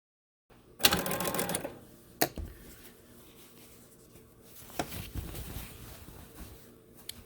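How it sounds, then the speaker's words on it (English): A sewing machine stitches a quilt block seam, running in a close, steady burst for over a second, then stopping. Sharp single clicks follow, with a quieter stretch of machine stitching later. "realign it, and sew over it again"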